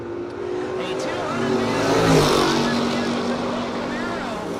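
A Camaro drag racing down the track at a no-box event, its loud engine roar swelling to a peak mid-clip and then fading slightly, with broad roaring noise and a steady engine drone throughout.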